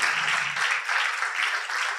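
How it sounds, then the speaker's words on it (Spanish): Congregation applause during a church sermon, a dense, steady wash of many hands clapping at moderate loudness for about two seconds, with no voices over it. "Esto merece un aplauso, hermano."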